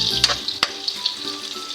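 Onions sautéing in a pan until transparent, a steady close sizzle with a few brief stirring knocks and scrapes, no talking.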